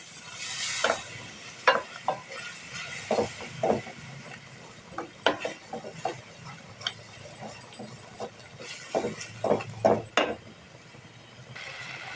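Spice masala is sautéed in a pan, producing faint sizzling with intermittent scraping and clinking stirs at an irregular pace, close and quiet.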